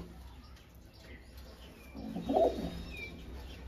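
A Madras pigeon in a Kolkata home flock coos softly once, a low burble rising briefly over quiet background noise.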